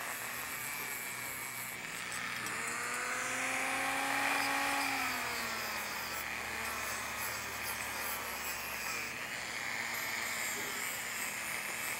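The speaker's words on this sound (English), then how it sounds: "I'm using my Dremel and a little wire brush" A Dremel rotary tool fitted with a small wire brush scrubs scale off metal, a continuous close whirring grind that swells and dips in pitch as the load changes, with no talking.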